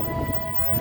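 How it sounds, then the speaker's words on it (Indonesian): A JR 205 series KRL commuter train bound for Nambo runs past in a steady, close rumble with a sustained tonal whine, filling the whole short stretch without any voices. "ada KRL JR 205 tujuan Nambo"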